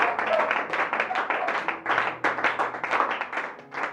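A church congregation at a Sunday service claps together in a fast, dense burst of applause, steady and close, with voices faintly mixed in.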